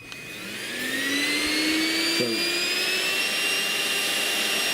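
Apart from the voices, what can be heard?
Bissell Bolt stick vacuum cleaner running at full power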